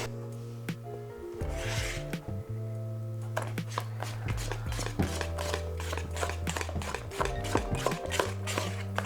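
Crepe batter is whisked by hand in a bowl, with quick repeated scraping taps that speed up over the second half and play over light background music.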